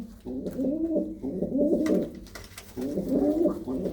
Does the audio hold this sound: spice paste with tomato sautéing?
no